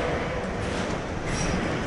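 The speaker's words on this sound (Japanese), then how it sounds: "貨物列車が動き始めました。 結構大きな音。" A freight train starts to move at a station in Shiojiri, Nagano, giving a loud, dense, steady rumble and rattling roar throughout the short stretch, close by with no voices.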